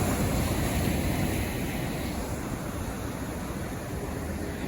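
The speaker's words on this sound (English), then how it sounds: "Powerful waves here" Powerful ocean waves pounding the shore at Cape Coast, a continuous loud, dense roar of surf with wind buffeting the microphone, steady throughout and no voices.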